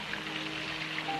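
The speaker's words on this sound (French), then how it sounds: "Ah, voilà la pluie." Steady, soft rain patters continuously, a faint even hiss of drops on a surface with no other sounds.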